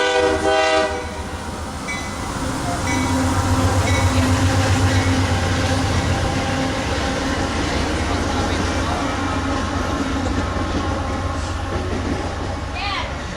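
Several Union Pacific light locomotives pass at Rochelle, Illinois, their horn blaring at the start and then a heavy rumble with rail clatter carrying on loudly throughout, with people talking over it.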